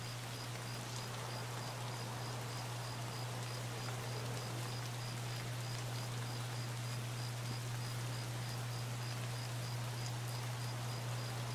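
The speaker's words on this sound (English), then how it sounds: "The little constant rain sound." Constant light rain in the video game Escape From Tarkov, a steady, even patter that carries on alone with no voices and a faint high tone running through it.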